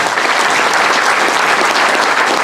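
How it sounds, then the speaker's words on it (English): Banquet audience applause at a baseball dinner, loud, dense and unbroken clapping from a large room of people filling the whole moment. "So that should be applauded real quick"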